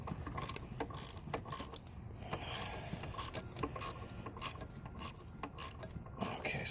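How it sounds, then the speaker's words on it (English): A ratcheting wrench works a 12 millimeter alternator bolt loose in a tight spot on a Hyundai Sonata 2.4L, producing close, rapid bursts of metallic clicking in a steady back-and-forth rhythm. "these ratcheting wrenches seem to work the best for this job because it is in a tight spot"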